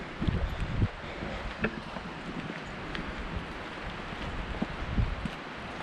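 Blustery wind gusts buffet a camera microphone on a cedar forest hike, producing a rough, rumbling roar with stronger bursts at the start and toward the end, and no talking.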